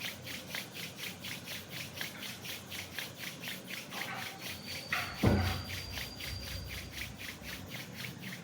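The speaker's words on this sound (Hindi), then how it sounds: "दोनों हथेलियों को आपस में रगड़ें।" Both palms rubbed briskly together during a meditation session, a close, steady swishing friction in quick even strokes, with one louder thump partway through and no talking.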